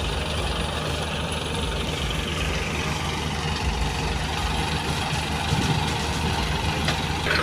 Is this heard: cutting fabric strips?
no